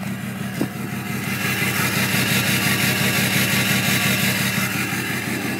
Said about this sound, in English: Running right around 700 RPM. And the idle's a little rough. Variable vane turbo kind of makes funny noises when it idles.